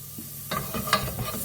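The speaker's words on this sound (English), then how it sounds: "Now I'm just gonna put 1 small spoon of ghee, butter, just to saute the onions." Onions sautéing in a spoonful of ghee in a pot, with a soft sizzle starting partway through and a few close stirring scrapes and clinks over it.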